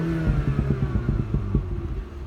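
A MINI Hatchback in sport mode revs its exhaust in a short burst, the engine note rising and then falling back while a rapid run of crackling pops and bangs rattles through, close and moderately loud.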